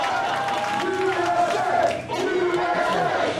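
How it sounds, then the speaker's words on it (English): Wrestling crowd cheering and applauding a tag team at a live showcase event, a steady roar of voices and clapping, with a dip midway before swelling again. "Showering them with applause."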